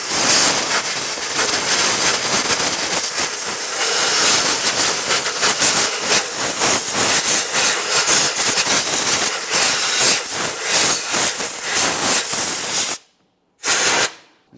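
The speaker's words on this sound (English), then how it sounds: "I'm going to clean this using compressed air, paying close attention around all of my coolant hoses" Compressed air blasts steadily and loudly while cleaning around the coolant hoses in a 2008-2017 Mitsubishi Lancer engine bay, pulsing in short bursts, then stopping with one brief final spurt.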